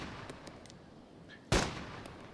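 A single semi-automatic rifle shot rings out in the video game DayZ, sharp and loud after a quiet stretch, with a short decaying tail; faint clicks and small sounds come before it.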